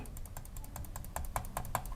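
Crisp clicks from a standard, audible computer mouse, pressed repeatedly at an uneven quick pace, a few hits louder than the rest, close up over a soft room hum.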